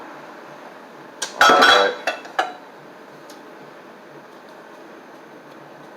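A cleaver and pots and pans clatter in a short burst of metallic clanks and knocks, a few quick hits clustered together, then quiet room hiss.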